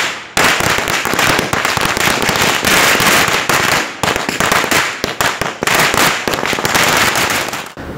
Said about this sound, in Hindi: इस मौके पर पार्टी कायदीन ने गांधी भवन में आतिशबाजी करते